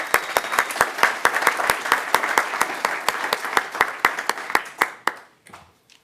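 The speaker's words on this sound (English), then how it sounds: "So a big round of applause for Stanford also." A conference audience applauds for Stanford, steady clapping from many hands with sharp individual claps standing out, then fading to a few scattered claps and quiet near the end.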